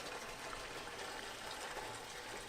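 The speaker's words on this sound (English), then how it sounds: "Something's now pouring gas out." Gasoline gushes and splashes steadily out of a leaking fuel tank on an old Honda ATC, a continuous close liquid pour with no speech.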